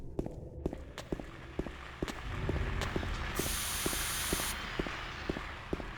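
Green hyper spray fired in Silent Hill 2, a steady hissing burst lasting about a second amid regular running footsteps that thud through the whole stretch.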